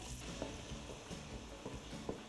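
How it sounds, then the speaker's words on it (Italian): Onion gently frying in a generous swirl of olive oil in a large pot, a soft steady sizzle with occasional stirring clicks, fairly quiet and close. "in una capiente casseruola con un bel giro d'olio faccio soffriggere per prima la cipolla"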